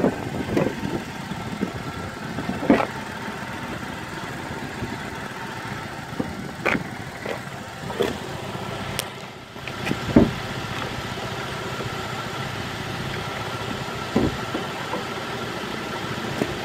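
A 2013 GMC Acadia SLE idles steadily with its hood open, the engine heard up close and alone, with a few scattered knocks and clicks over the even hum.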